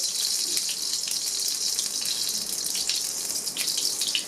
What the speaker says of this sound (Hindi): अब हम इस पैटी को फ्राई कर लेंगे लो आंच पे